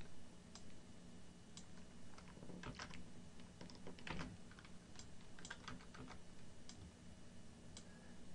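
Quiet computer keyboard typing during drawing work in electrical design software, with scattered light key taps and short bursts of clicks at irregular intervals over a steady faint hum.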